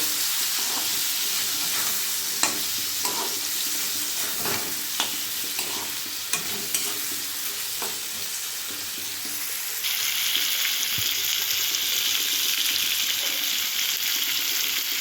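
Steady loud sizzling of turmeric, salt and green chilli paste frying in a pan, with occasional scraping stirs; the hiss brightens and intensifies partway through.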